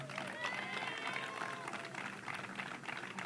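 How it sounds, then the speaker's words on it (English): An audience at a state park announcement applauds, a moderate wash of clapping mixed with crowd voices and cheering, steady throughout. "Let's give her a big round of applause."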